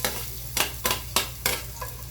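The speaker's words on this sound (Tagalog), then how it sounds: "ako ay magigisa na muna ng sibuyas at bawang" Onion and garlic sizzle in a hot pan while being sautéed for a home-cooked lunch dish, with five sharp scraping stirs at a steady pace over a constant frying hiss.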